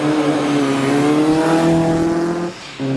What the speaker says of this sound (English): Ed Burgess comes to the start line in his glorious Type 51.